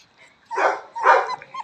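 A puppy gives two short, high yipping barks close by, followed by a brief faint third yelp in an otherwise quiet space.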